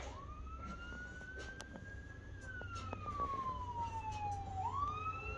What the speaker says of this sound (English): They're about to have another fire truck go through.